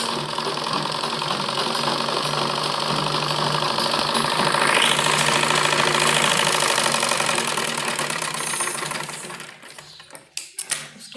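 A sewing machine stitches a fabric strip onto a baby frock with a fast, even mechanical chatter that runs loud and steady for about nine seconds, then breaks into a few short bursts before stopping.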